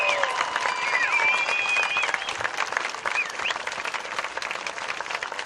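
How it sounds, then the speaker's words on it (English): A stadium crowd at a high school event applauds new military enlistees, the broad clapping sounding somewhat distant and open, mixed with a few whistles and cheers, and holding fairly steady throughout. "I'd ask that we give these gentlemen one more rousing round of applause."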